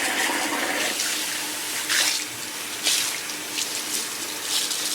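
Water runs steadily from a salon sink tap, rinsing neutralizer out of curly hair in a continuous close gush, with a few brief surges and no talk.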